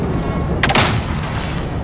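Gunfire in Call of Duty: Modern Warfare gives one loud, sharp blast with a brief rattling tail, over a dense, rumbling battlefield din that continues throughout.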